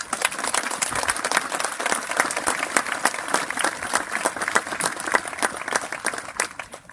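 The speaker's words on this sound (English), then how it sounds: "Let's give him another round of applause." Audience applause at the dedication of the North Country Honors the Mountain monument, following a national anthem performance: many hands clap briskly and continuously, a loud, dense outdoor ovation lasting the whole stretch.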